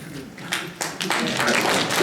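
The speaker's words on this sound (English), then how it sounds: "Please hold your applause, please." Applause breaks out from an audience at a council public hearing, with scattered claps building from the half-second mark into dense, sustained clapping that fills the room.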